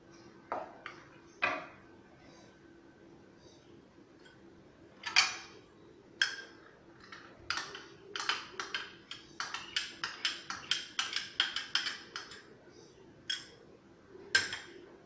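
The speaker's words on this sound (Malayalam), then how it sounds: "ചെറിയ തീയിൽ ഈ നെയ്യ് നമുക്ക് നന്നായിട്ട് മിക്സ് ചെയ്യാം." A spoon clinks and scrapes against a pan while roasted gram flour is stirred with ghee over low heat, irregular light taps at first, then a quicker run of metallic clicks, fairly quiet and close.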